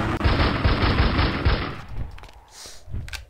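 Rapid automatic gunfire in the blocky survival game CastleMiner Z, a loud sustained stream of shots for about a second and a half, then scattered single cracks and quieter sounds.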